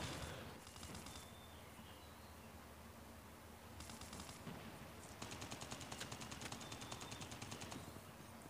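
Bursts of AK assault rifle fire in the mobile shooter Call of Duty Mobile, several rapid automatic volleys separated by short pauses, the densest stretch near the end, fairly quiet overall with no talking.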